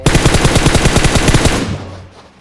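Loud, rapid automatic gunfire in a fast, even burst lasting over a second, then fading out into quiet.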